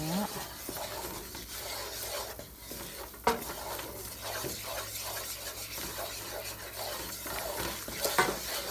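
Sauce being stirred in a pan for chicken Alfredo lasagna, a steady scraping and swishing with faint sizzle running throughout, one louder clink near the middle, no talking.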